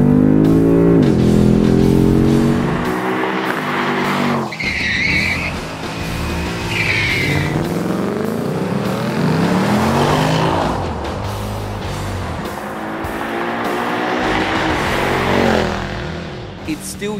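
Tuned performance cars race hard, among them a Brabus-kitted Euro muscle car on factory suspension and road tyres; loud, close engines rev and shift continuously, with sharp tire squeals breaking through in the middle and a faint voice underneath.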